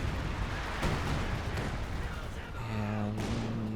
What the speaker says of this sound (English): Calls him one more artillery strikes